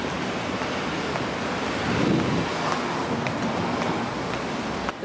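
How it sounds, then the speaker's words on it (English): Steady wind blowing outdoors on a mild day in New York City, a broad continuous rush with a slight swell in the middle, heard alone without talk. "Not too hot with a breeze of cool wind."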